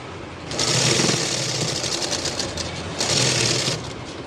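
A sewing machine stitches lining cloth along a jacket neckline in two bursts of rapid, rattling stitches separated by a lower, steadier running stretch.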